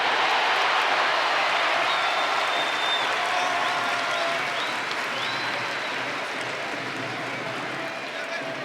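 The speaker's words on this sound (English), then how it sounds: "as you could hear the crowd erupt, getting a wazari on the other mat" A judo arena crowd at the Paris Grand Slam erupts into loud, sustained applause and cheering, a dense roar that slowly eases, with a few whistles over it.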